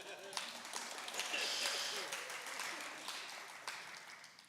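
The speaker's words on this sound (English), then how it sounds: "Round of applause to them" Faint, steady applause from an audience at an annual meeting of a church friends' group, with soft voices mingling beneath the clapping.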